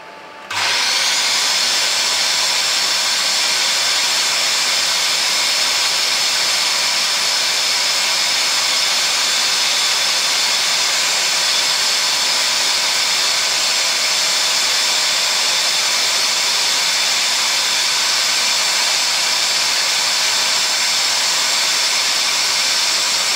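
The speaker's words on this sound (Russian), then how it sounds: "Шумновато, конечно, мотор этот работает," A loud electric motor runs steadily on a bronze lost-model casting setup, a constant high-pitched whine and roar that starts abruptly and holds without pause throughout.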